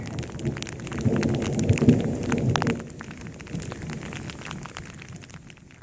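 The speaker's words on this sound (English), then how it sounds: "It's a rainy day in the Yosemite Valley." Rain comes down in Yosemite Valley, a soft steady patter with scattered drops, while a low rumble of thunder swells in the first few seconds and then fades.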